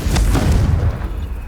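A Confringo fire spell explosion in Hogwarts Legacy, a loud, close, booming blast that fades into a rumbling tail over about a second and a half.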